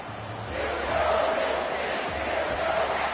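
A home crowd at a college football game roars in a sustained, dense wall of cheering and shouting as the defense faces third down, loud and continuous throughout.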